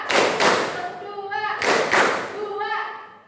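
Classroom of vocational school students clapping in unison on a teacher's cue, a few loud group claps in bursts amid children's voices and chatter.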